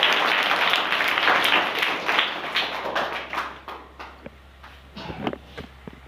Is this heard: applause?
yes